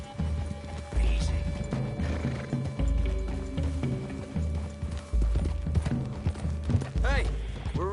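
Horses in Red Dead Redemption 2 clopping through a wooded clearing, uneven close hoof thuds with a loud whinny near the end, mixed under people talking.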